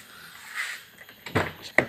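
The left door of a 2012 Nissan March opens with a short mechanical click and a thunk of the latch, followed by a second sharp clack, heard close up.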